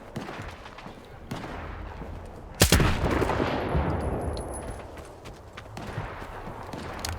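Distant gunfire from NPCs fighting in the game Stalker 2, one sharp report followed by a rumbling wash of shots and noise, muffled and far off behind the game's ambience.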